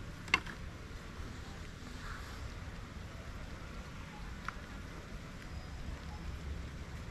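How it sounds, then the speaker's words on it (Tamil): Rain falls outdoors near a coconut tree, a faint, steady hiss of drops with a single sharp tap near the start, continuous and without voices. "மழை தானே அடிக்கடி வருது"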